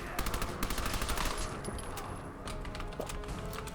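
Fallout video game submachine gun firing in a fast, continuous automatic stream of sharp shots, loud and close, with brief impact crashes mixed in.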